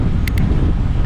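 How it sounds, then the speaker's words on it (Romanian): Strong wind buffets the microphone outdoors, producing a loud, continuous low rumble that fills the whole moment with no voice over it. "Bate vântul foarte tare, sper că mă auziți"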